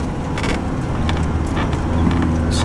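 A car engine roars continuously with rumbling road noise and occasional rattles and bumps, heard from inside the vehicle while driving over sand dunes on the Madigan Line.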